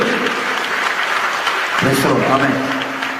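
A church congregation applauds in a dense, steady wash of clapping, while a voice begins speaking over the clapping partway through.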